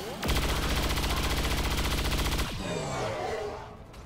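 Sustained rapid automatic gunfire from XCOM 2 rattles loud and close for about two seconds, then cuts off and leaves a fading echo and a lighter clattering tail.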